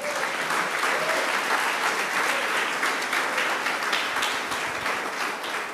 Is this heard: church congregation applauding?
yes